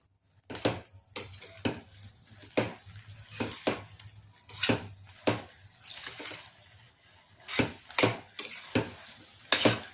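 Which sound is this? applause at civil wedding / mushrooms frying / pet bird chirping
mushrooms frying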